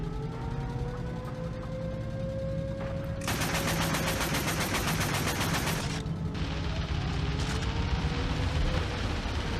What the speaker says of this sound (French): Heureusement qu'il n'y a pas que moi qui tire, hein.